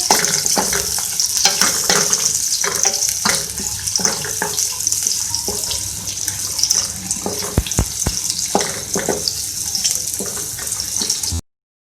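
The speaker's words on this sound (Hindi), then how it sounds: "सबसे पहले हम ऑयल में ऐड करेंगे प्याज। इसको हम फ्राई कर लेंगे।" Chopped onions sizzle in hot oil in a pan as the first step of a beef keema with green chillies, a steady loud hiss with occasional stirring scrapes, ending abruptly.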